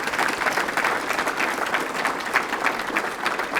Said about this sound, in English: Can we go ahead and give her a round of applause for that?